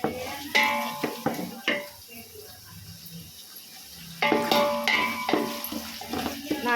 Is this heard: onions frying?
yes